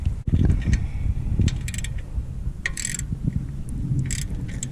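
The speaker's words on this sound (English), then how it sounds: "we're just going to crank on them just a little bit. Just make it a quick crank" Ratchet snugging down bolts on a carbon fiber Eventuri intake for a BMW M240i B58 engine, several brief metallic clicking bursts scattered over low handling thumps and background rumble.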